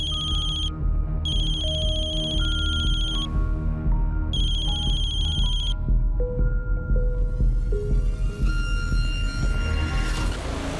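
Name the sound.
mobile phone ringing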